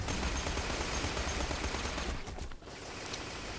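An enemy turret in Borderlands fires in a continuous, dense rattle of gunfire that holds steady and loud, then briefly dips before resuming at a slightly lower level.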